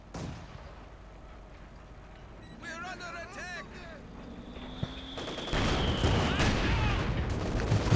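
An artillery barrage and gunfire rumble in the video game Company of Heroes 2, with booms and bursts of shooting mixed under steady commentary, growing heavier toward the end.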